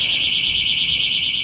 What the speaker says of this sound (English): hear what happens when I trip the door alarm